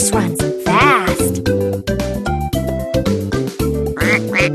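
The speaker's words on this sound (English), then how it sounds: "Duck." Cartoonish duck quacks repeat over a bouncy, loud musical backing, with sliding tones mixed in among steady chords.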